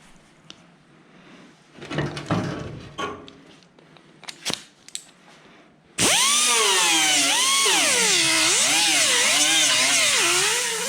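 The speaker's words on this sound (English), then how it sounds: "I'm going to take a disc and just kind of go over the surface a little bit and see what is revealed" An abrasive disc grinds across the body panel surface of a 1969 Mach 1 Cobra Jet, starting after some quieter handling clatter with a loud, harsh continuous whine that rises and falls in pitch as pressure shifts.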